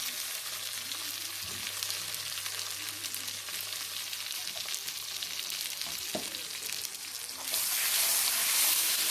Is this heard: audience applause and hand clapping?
no